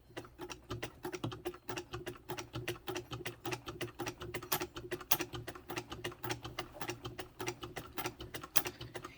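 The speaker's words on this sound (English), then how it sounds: "I can do some sample stitches by just turning the hand wheel manually." A pink 1911 Singer 66 sewing machine stitching as its hand wheel is turned manually, giving a steady run of close, crisp mechanical clicks and taps with a faint low whir underneath, fairly quiet and with no talk.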